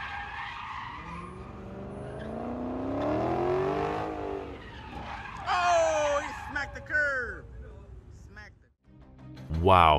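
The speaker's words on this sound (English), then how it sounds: "I don't know whether the BMW skidded by incident" BMW car skidding in a road crash, tires squealing loudly as engine noise rises, with a person's voice heard over it, ending in a burst of impact noise.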